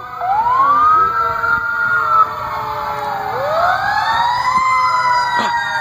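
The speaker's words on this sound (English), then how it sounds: "Fire truck." Fire truck siren at a nighttime parade of lights, loud and close, wailing in long rising and falling sweeps over a low engine rumble, with a voice briefly audible.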